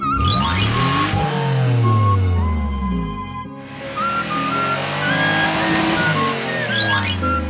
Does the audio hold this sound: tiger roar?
no